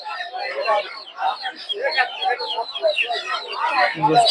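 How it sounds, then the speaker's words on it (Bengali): Small native chickens at a busy poultry market, clucking and chirping throughout, mixed with chatter from people nearby. "সব ছোট সাইজের দেশি মুরগি"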